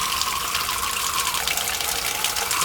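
Water running steadily through an irrigation water filter as it is scrubbed clean with a brush in a garden in southern Chile, a constant close rushing wash with no talk.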